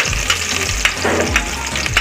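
Garlic and onion fry in a pan with a continuous close sizzle, punctuated by a few light scrapes and taps of a spoon stirring, with no voices.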